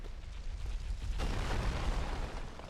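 A boulder tumbles down in Dark Souls Remastered, a loud, sudden rumbling crash that swells into a sustained, noisy roar of rolling stone, with no voices over it.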